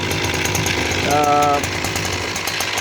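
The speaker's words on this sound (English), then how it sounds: "it's not good to go high RPM without the propeller because you have no load" A SKY100 paramotor engine runs with no propeller fitted, a steady close mechanical drone that rises briefly in pitch and loudness with a throttle blip before settling back, with a voice heard faintly underneath.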